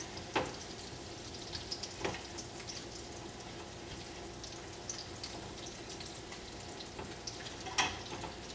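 Carrots stirred with a spatula in butter in a pan, a low steady sizzle with a few soft scrapes and taps scattered through, moderately close and fairly quiet.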